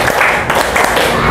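Classroom of students clapping in a steady counted rhythm, a brief run of loud, close group claps with regular beats.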